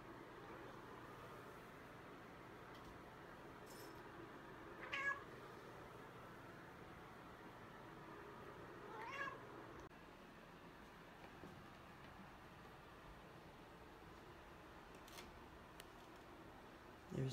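Two house cats in a quiet home meow a few times, brief faint calls spaced apart over a low steady background hum.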